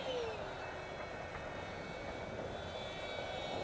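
SU37 Mk2 foam model jet with an electric ducted fan flying overhead, a steady whining fan roar holding level throughout at moderate distance, no voices.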